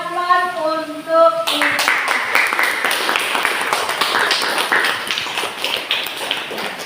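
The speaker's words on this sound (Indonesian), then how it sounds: "Kita berikan aplaus untuk" Classroom applause breaks out after a brief tonal opening, a dense run of many hands clapping close by that holds steady for several seconds with voices faintly mixed in.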